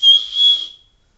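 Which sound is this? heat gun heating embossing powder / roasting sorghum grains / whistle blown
whistle blown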